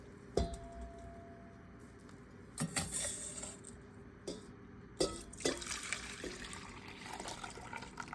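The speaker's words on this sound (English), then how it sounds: "and pour it back into my bowl." Potato and onion juice poured back into a bowl in a home kitchen, a faint trickling and splashing with a few clinks of utensils against the bowl, quiet and close.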